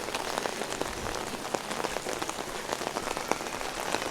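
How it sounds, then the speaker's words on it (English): Heavy autumn rain in Medjugorje pouring down steadily, a dense, loud, continuous hiss and patter of drops on surfaces, with no voices. "A lot of rain, and in winter as well it will be like this, a lot of rain."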